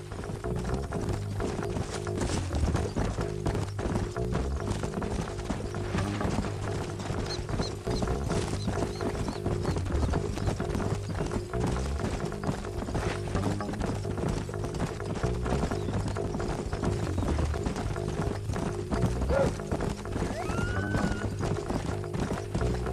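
Horses galloping in Red Dead Redemption: continuous rhythmic hoofbeats clip-clopping at a fast pace, with occasional whinnies, layered over a steady low musical or ambient bed.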